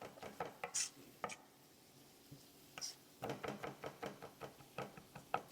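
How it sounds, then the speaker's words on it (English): A knife finely dices food on a cutting board in a kitchen, with a run of quick, close, rhythmic chops after a few scattered knocks, and some quiet background kitchen sounds. "Just get it chopped up."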